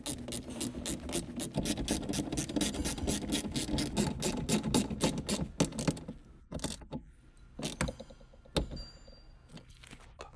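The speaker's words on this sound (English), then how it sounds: "Use a small 10mm deep socket with a small ratchet wrench." Small ratchet wrench with a 10mm deep socket snugging down the window regulator mounting bolts inside a 2010 Honda Civic door: rapid, close ratcheting clicks for several seconds, then slower scattered clicks and knocks.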